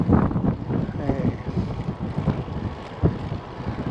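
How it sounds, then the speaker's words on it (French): Strong gusty wind buffets the microphone while cycling along a canal toward Lac Kir, producing uneven low rumbling bursts with faint background sounds. "il y a beaucoup de vent."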